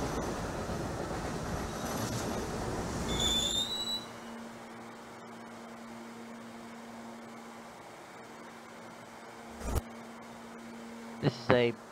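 A Brooklyn-bound NYC subway A Express train in Trainz Simulator 2012 rumbles steadily with a low hum, then settles into a quieter idle broken by a few short clanks and squeals near the end.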